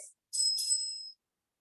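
A timekeeper's bell rung at an intercollegiate English oratorical speech contest, one bright ringing strike that holds for nearly a second and then stops, alone in a quiet room.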